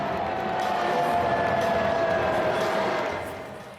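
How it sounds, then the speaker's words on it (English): A large stadium crowd at the US Open men's final reacts to Donald Trump with a sustained, loud roar of booing and mixed noise that holds steady, then fades slightly near the end. "there's a bit of booing going on there"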